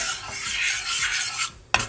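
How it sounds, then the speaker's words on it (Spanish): A spoon stirs sugar in a pot for homemade caramel popcorn, giving a steady scraping, rasping swirl close up, then ending in a sharp knock. "voy a revolver un poco"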